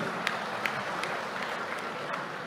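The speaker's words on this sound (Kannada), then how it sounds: "ಅವರ ಪರಿಶ್ರಮಕ್ಕೆ ಚಪ್ಪಾಳೆ ಬೇಕೋ ಅಂತ ಹೇಳಿ" Audience at a public function in Puttur clapping steadily, a dense continuous patter of many hands, moderately loud, with no clear voices over it.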